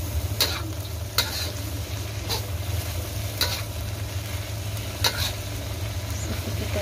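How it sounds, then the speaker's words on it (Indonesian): Young jackfruit stir-fried in a pan gives a steady sizzle, with the sharp scrape of a spatula stirring at regular intervals. The sound is close and there is no talking. "Terus kita masukin gorinya nangka ya, kita aduk lagi."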